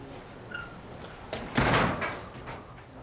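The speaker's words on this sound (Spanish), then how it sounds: "Cierra la puerta, por favor." A door being closed indoors, soft shuffling and small clicks followed by a short thud and rattle as it shuts, moderately close with a brief fading tail.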